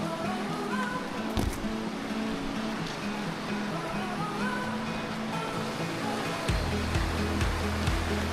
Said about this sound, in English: Walking up beside a creek at the moment